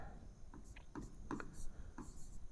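Chalk or marker scratches out short, scraping strokes on a board in a lecture room, several quick bursts spaced irregularly at moderate volume.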